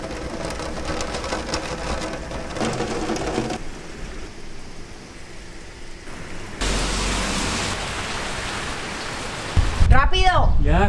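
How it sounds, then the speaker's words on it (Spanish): Torrential rain pours down outdoors in Auckland, New Zealand, a dense, loud, continuous hiss that shifts in intensity, with a brief burst of rustling or wind buffeting near the end. "Creo que elegí el peor día para grabar porque está lloviendo torrencialmente"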